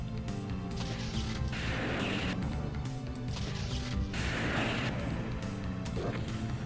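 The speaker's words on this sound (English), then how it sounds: "I just killed the Spider Mastermind by firing down into that pit" Sustained gunfire and heavy mechanical combat noise as the Spider Mastermind boss is killed in Doom's SIGIL episode, Halls of Perdition level; dense, continuous and loud, with repeated bursts of shots and crashes throughout.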